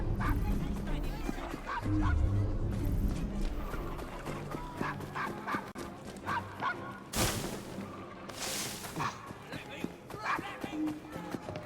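A dog in the Assassin's Creed Syndicate game barks and yips repeatedly in short bursts, loud and near, with a few whimpers, while someone speaks over it.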